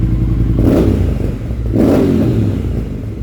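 A loud 2022 Triumph Speed Twin motorcycle engine revving twice in swells, its exhaust rumbling with rough crackle and popping beneath the roar from the active SAI system, close by.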